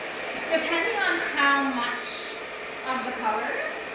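A hair dryer blows steadily through hair after a styling powder or leave-in product is applied, a constant airy whoosh kept under a voice talking throughout.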